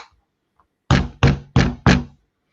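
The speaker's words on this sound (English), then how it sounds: "If you ever find that you need to put a large number of plates onto a base plate, one of these rubber hammers is absolutely invaluable" A rubber hammer strikes LEGO plates down onto a base plate four times in an even rhythm. Each blow is a loud, close, dull knock, and the room is quiet in between.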